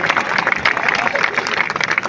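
Audience applause at a college of pharmacy event, dense and steady clapping over two seconds, fairly loud and close, with a few voices mixed in.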